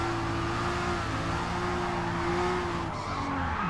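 Car tires squealing in a long drift in Forza Motorsport, a steady high screech over engine drone that holds for several seconds and bends in pitch near the end.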